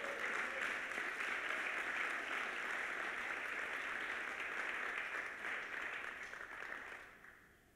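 Church congregation applauding at a Sunday service, a dense, steady wash of clapping that holds evenly and then fades out near the end.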